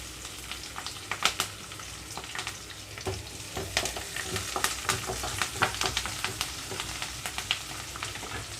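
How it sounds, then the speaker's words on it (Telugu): Garlic, curry leaves, sliced onions and green chillies fry in a pan with a continuous close sizzle and frequent crackling pops, joined by a few light stirring clicks and no speech. "మూత పెట్టేసి కొద్దిసేపు వేయించుకుంటున్నాను"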